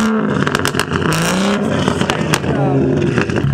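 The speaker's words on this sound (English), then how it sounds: "this is after" A straight-piped BMW M140i revs hard, its exhaust rising and falling in loud, raspy bursts with crackles across the whole clip.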